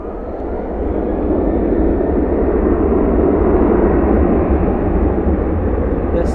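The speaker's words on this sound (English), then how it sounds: "This 7-3 headed off to Bozeman on board a 737-800, flight 1774." A Boeing 737-800 bound for Bozeman departs at night from Dallas Fort Worth, its engines a loud, steady broadband roar that swells slightly early and then holds, with no voices present.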